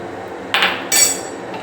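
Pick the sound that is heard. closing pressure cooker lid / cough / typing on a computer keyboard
closing pressure cooker lid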